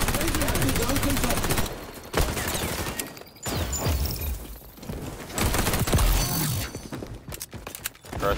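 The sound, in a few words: MP7 gunfire in XDefiant video game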